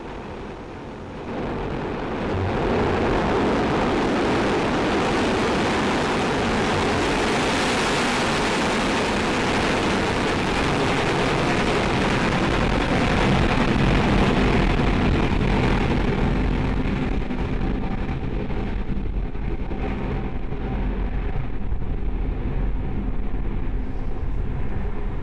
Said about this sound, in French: Voilà donc un décollage qui est réussi pour ce 15e Soyouz sur l'équateur